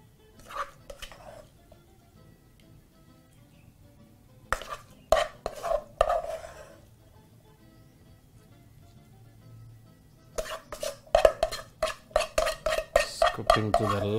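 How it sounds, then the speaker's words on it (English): Beef biryani mixture scraped and spooned from a pan onto a plate, with a few clinks early, a cluster of utensil scrapes mid-way, then a long run of rapid metallic taps and scrapes near the end. "proceed to very simply move your mixture to your plate"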